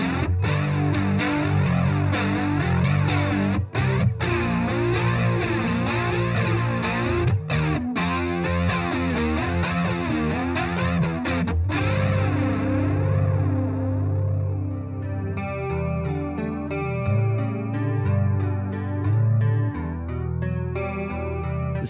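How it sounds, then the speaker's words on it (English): An electric guitar plays through a Roland JC-22 amplifier driven by an overdrive pedal, with dense, gritty distorted chords and riffs, loud and continuous, then a sparser stretch of overdriven notes near the end. "The JC-22 doesn't feature any built-in distortion, but will react really well to your favourite overdrive pedal."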